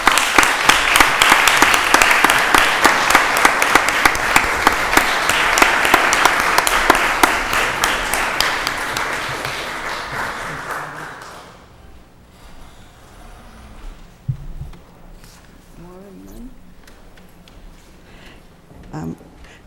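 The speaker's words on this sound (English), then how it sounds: "Dorcas, you deserve a round of applause." A city council chamber audience breaks into loud sustained applause that fades out after about eleven seconds, leaving quiet room tone with faint murmurs.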